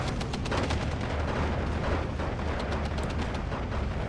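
Continuous .50 caliber gunfire and battle noise from the video game Steel Division 2, a dense, rumbling wash of shots and distant blasts that runs steadily throughout without voices.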